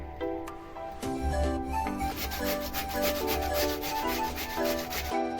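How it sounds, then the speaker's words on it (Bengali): Potatoes are rubbed finely against a grater for pakora, a continuous scraping rasp with rhythmic strokes, close and fairly loud, with kitchen clatter and no talking. "এটা আমি স্টিনারে ভালো করে ঘষে নেব মিহি করে"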